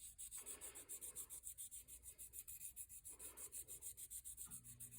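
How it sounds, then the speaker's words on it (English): A ring band is rubbed with 600 grit sandpaper in steady back-and-forth strokes, a faint, raspy scratching that rises and falls in an even rhythm, with a low background hum underneath and no talking. "you're wanting to sand these until it sounds like it's smooth and less raspy"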